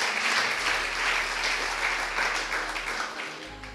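A church congregation applauds during a sermon, a steady wash of many hands clapping, moderately distant, with a low hum running underneath.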